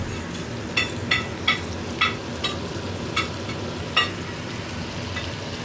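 Steak and onions sizzling in a pan for an omelette, a constant close frying hiss broken by several sharp scrape or stir clicks, no voices.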